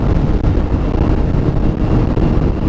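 Rough wind buffeting a microphone outdoors near a WRX, a loud continuous low rumble with steady gusty roar and no distinct breaks.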